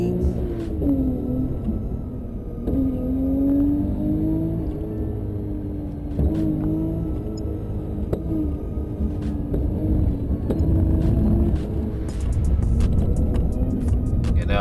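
A BMW M5 driven hard through traffic by Giorgi Tevzadze gives a continuous engine rumble with rising and falling revs across many gear changes, close-miked from inside the car, with no talking.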